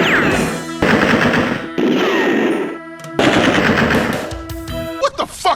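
Rapid automatic gunfire from the player's weapon in the video game Alone in the Dark 2, loud dense bursts separated by short gaps, ending in a few scattered single shots.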